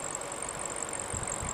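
A 2023 BMW M550i xDrive's N63 4.3-liter twin-turbo V8 idles steadily, a continuous low rumble with a constant high whine above it, heard alone at moderate loudness.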